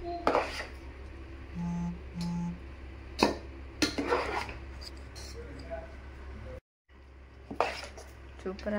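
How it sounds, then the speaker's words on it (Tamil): Tamarind rice being mixed with sesame oil in a metal vessel, scattered scraping and clinking of a spoon against the pot in short bursts, close by, with a voice talking now and then. "இப்போ ரைஸில் ஊற்றி மிக்ஸ் பண்ணிக்க வேண்டியதான்"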